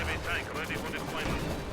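Continuous rumbling battle noise in a video game, with repeated booming anti-tank gunfire hitting a T-70 tank, blends into a dense, loud soundscape, with a voice talking over it.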